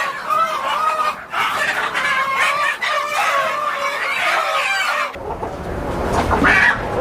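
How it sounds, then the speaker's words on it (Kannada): A native country chicken (nati koli) clucks loudly and close by in a run of repeated calls, and handling or scuffling noise joins in near the end. "ಈಗ ನಾಟಿ ಕೋಳಿ ಸೌಂಡ್ ಏನು, ನಾಟಿ ಕೋಳಿ ಕದರ್ ಏನು ಅಂತ ಈಗ ತೋರಿಸ್ತೀನಿ ನೋಡಿ"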